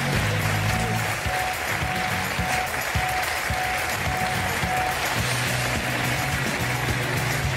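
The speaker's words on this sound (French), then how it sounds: "Vous pouvez applaudir Jonathan Lambert" A television studio audience on a French talk show applauds the comedian Jonathan Lambert, dense sustained clapping filling the room, loud and steady from start to finish without speech.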